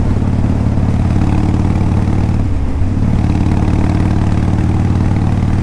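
A 2002 Harley-Davidson Low Rider with a 5-speed gearbox cruises at steady throttle, its engine a loud, constant low rumble mixed with rushing wind noise, and no one speaks.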